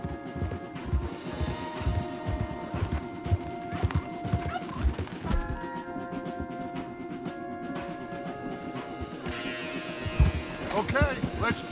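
Horses in the video game Red Dead Redemption 2, with a steady clip-clop of hooves and occasional whinnies, layered under game music and someone speaking.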